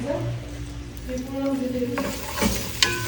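Onion and garlic sautéing in a pan, a steady close sizzle with occasional stirring scrapes, a couple of sharper clinks near the end, and no talking over it.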